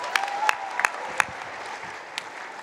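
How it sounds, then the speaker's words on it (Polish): An audience at a conference applauds in a brief burst, with sharp scattered claps standing out over a softer crowd wash that thins toward the end. "Wielkie brawa, Franc!"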